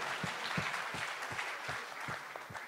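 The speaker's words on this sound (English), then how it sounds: "Let's have a round of applause for being so ingenious" A small audience at an engineering quiz session claps faintly, with individual hand claps landing in a fairly regular rhythm over a quiet room background.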